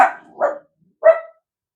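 Dogs bark three times in short, sharp bursts, close and loud, with a brief quiet gap before the last bark and silence after.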